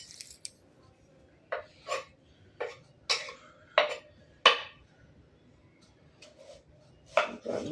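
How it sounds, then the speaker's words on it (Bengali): Onions are chopped on a board for chilli chicken: about ten sharp, separate knife strikes come at an irregular pace, close and moderately loud against a quiet room. "জানি না পেঁয়াজ কাটে।"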